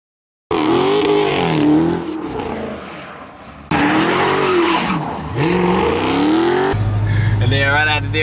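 A Dodge Hellcat's engine roars loud and close while driving, rising and falling through repeated revs mixed with squealing tires, and music joins at the end.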